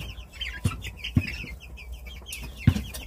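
Chickens clucking, white Silkie pullets and month-old White Silkie Ogolgye chicks housed together in a pen, giving a few short, close clucks over a steady background of softer chirps and calls.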